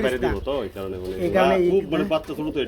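Pigeons cooing in soft, throaty warbles, close by at a pigeon sale, mixed with people talking over them.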